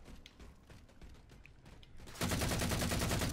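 Gunfire in Halo 4 online multiplayer: quieter bursts of shots early on, then a loud, dense burst of sustained automatic fire that stays close and continuous to the end.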